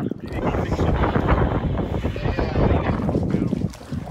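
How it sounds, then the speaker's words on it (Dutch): Strong wind buffets the microphone aboard a boat in the Strait of Gibraltar in a loud, rumbling roar, easing slightly toward the end. "Maar er staat nogal wat wind."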